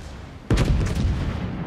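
A sudden heavy boom of naval artillery from the battleship Tirpitz in World of Warships bursts in, followed by a rumbling, crackling tail that lingers and slowly fades.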